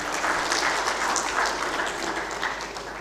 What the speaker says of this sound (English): let's have a generous round of applause, ladies and gentlemen